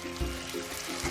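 Hot chicken cube stock, one cube dissolved in a cup and a half of water, poured into a pan for mushroom gravy, giving a short, quiet splash and trickle with a couple of soft low gulps.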